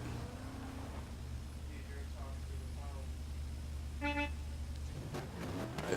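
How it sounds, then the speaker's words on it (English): Car horn sounded at the starting line of a drift qualifying event, a short toot standing out over a low idling engine rumble, with a few faint tonal bleeps before it and a commentator's voice in the background. "There's the horn, and he's off and running."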